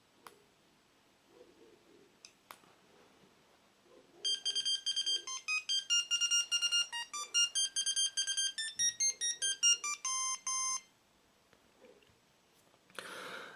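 A simple electronic ringtone from a Sony Ericsson T105 mobile phone plays a quick sequence of bright, clean beeping tones for several seconds, with quiet pauses before and after.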